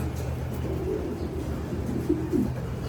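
Pigeons in a loft housing sick birds and new chicks give soft, low coos, a couple of short calls over a constant background hum.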